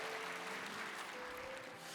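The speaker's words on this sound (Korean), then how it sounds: "여러분 정말 뜨겁게 박수로 축복해 주시기 바랍니다" Church congregation applauds newly baptized members during a Sunday service, a faint, even wash of clapping heard from a distance throughout.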